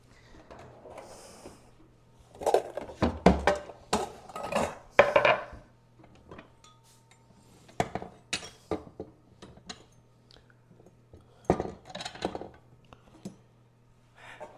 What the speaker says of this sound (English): now I'm going to chop them up into cubes